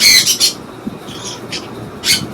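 A tame pet conure or parakeet gives short, sharp squawks close by, a cluster at the start and another near the end, with soft handling noises between.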